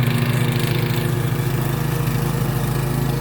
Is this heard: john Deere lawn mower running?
yes